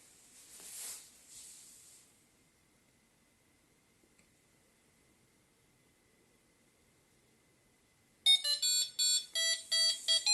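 A brief hiss fades into near silence before a loud electronic alarm bursts in with rapid, repeating high-pitched beeps.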